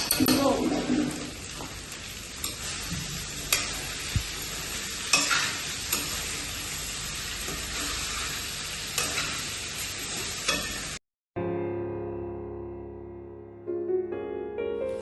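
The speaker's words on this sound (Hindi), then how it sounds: "तो ये अरबी थोड़ी सी हमारी फ्राई होगी देखो" Taro (arbi) pieces sizzle as they fry in a pan with salt and turmeric. A steady crackle runs under occasional stirring clinks and a voice talking, then cuts off near the end into quieter tonal background sounds.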